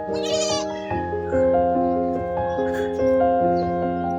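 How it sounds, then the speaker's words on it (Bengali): A newborn goat kid bleats again and again, close by, each call a quavering, nasal cry running into the next over a few seconds, with no talking. "নতুন ছাগলের বাচ্চা"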